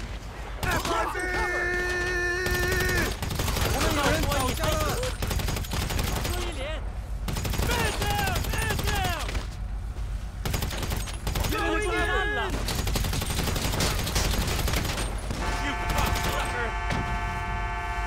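Continuous gunfire from a GTA Online firefight against IAA agents and Triads, with rapid bursts and heavy volleys throughout, mixed with shouting voices and game music tones.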